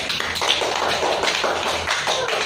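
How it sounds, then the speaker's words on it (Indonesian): A class of students claps hands together in a classroom, a dense, steady burst of many hands patting in loose rhythm, fairly close and continuous. "Oke, tepuk tangan dulu."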